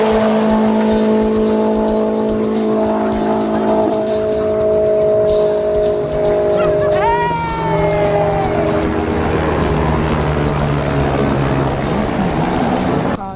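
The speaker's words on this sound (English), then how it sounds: "It's a bike of some description. And it's really loud." A loud racing machine at the Isle of Man TT screams past on the road with a sustained high engine note. The pitch sweeps and bends as it passes, then another engine note follows. It is close, with no talking.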